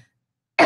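A single short, close cough bursts out at the very end after near silence, from a person with a sore throat.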